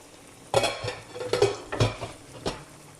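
A spoon stirring vegetable soup in a pot, several distinct scraping clinks against the metal in an uneven rhythm, close up, with a soft simmer underneath and no speech.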